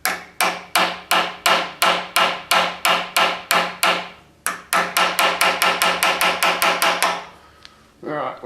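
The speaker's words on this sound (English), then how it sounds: "Use my old wood chisel for such emergencies." Old wood chisel struck with a hammer during rebuilding of a 1940 Hercus lathe: about twenty loud, sharp metallic blows at a steady quick rhythm, a short pause midway, then a faster run of strikes before stopping.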